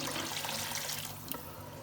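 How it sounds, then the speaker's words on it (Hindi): Water poured into a cooking pot for chicken mandi, a dense steady splashing rush that softens slightly toward the end, close and continuous with no talking. "अब इसमें पानी ऐड करते हैं"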